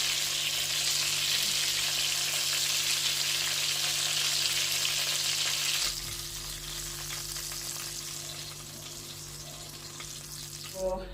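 Chicken wings frying to light golden in a pan, giving a strong, steady hiss that drops in level partway through and continues more softly to the end, with no voices.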